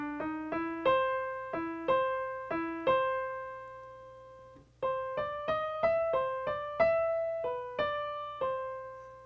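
Solo piano plays a phrase of The Entertainer, with the thumb's note kept lighter so the higher note stands out. Crisp, close staccato chords and single notes ring out in a lilting ragtime rhythm, with a short pause midway.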